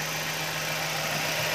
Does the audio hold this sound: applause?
no